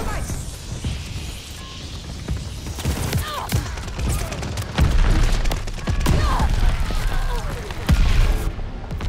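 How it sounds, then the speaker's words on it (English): Mortar explosions in the Call of Duty: Vanguard video game, a stream of booming thuds and crackling blasts under continuous gunfire and battle noise, with a few bigger impacts near the end. "Mortars incoming! Get out!"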